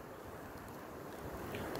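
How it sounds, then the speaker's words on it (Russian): Strong wind gusting outdoors the day after a hurricane, blowing steadily and roaring against the microphone as a broad, continuous rush, with no talking. "Сильный ветер."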